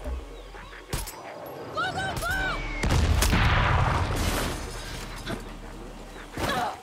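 Sniper gunfire in the video game Far Cry 6, several sharp loud cracks spaced seconds apart with a rumbling boom and noisy wash between them, while a person talks.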